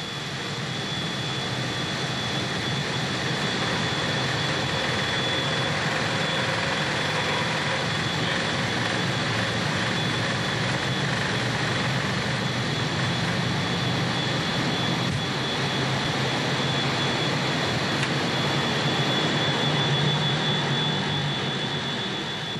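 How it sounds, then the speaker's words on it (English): An AWACS Boeing 707 jet with a large radar dish on top, heard in flight as a loud, steady, continuous engine roar with a faint high whine throughout, no speech over it. "The AWACS is, in reality, a Boeing 707, the workhorse jet that has flown millions of business travellers and holidaymakers"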